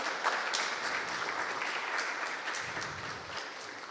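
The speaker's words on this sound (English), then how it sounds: "So let's have a round of applause for Ray for moderating tonight's panel" An audience applauding the moderator of a game artist panel at an evening event, a full, sustained round of clapping from many hands, loud and steady with brief faint murmurs beneath.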